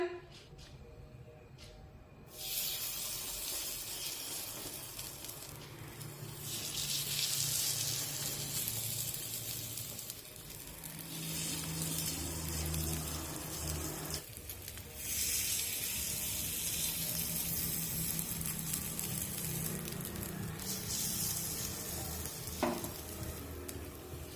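Rice flour appe batter is poured into a hot appe pan, setting off a steady, close sizzle and frying crackle that swells as more batter goes in, with quiet kitchen handling sounds.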